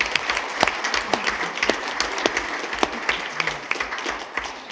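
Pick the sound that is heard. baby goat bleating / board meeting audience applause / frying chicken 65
board meeting audience applause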